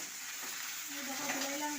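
Shutki, dried fish, sizzles softly in a hot pan while it is stirred, a faint close crackle.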